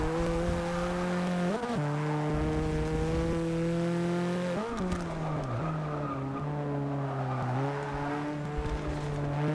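A Subaru 22B race car in Forza 6 roars under a continuous loud engine whine, with its pitch dropping and rising at gear shifts and tire squeal during a race.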